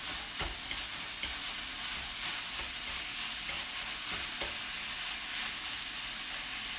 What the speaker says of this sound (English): So let's brown down this beef and this pork.